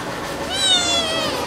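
A cat gives one clear, drawn-out meow close by, rising and then fading over about a second against a quiet room background.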